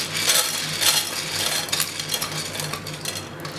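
Pumpkin seeds poured into a pan for roasting, a close, steady patter of small hard seeds rattling against the metal with a few brighter surges of clatter, with no talk.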